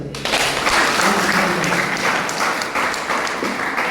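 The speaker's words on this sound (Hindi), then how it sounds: "इनके लिए तो ताली बजा रहा है" Sustained applause from an audience filling a hall at a Safe Shop MLM seminar, a dense, even wash of many hands clapping at steady loudness throughout, with no voices standing out.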